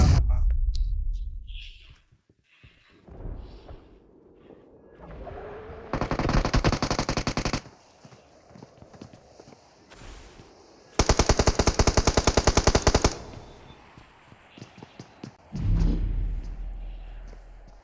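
Rapid automatic-weapon fire in a video game rings out in loud, sharp bursts, two long sustained volleys and several shorter rattles, separated by quieter stretches with some voice in the background.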